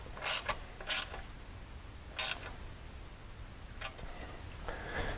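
A bolt with a heavy-duty washer and lock nut is tightened on a Ricochet skid plate of a CFMOTO ZF800 Trail, producing a few short, sharp ratcheting creaks separated by quiet pauses, close and alone.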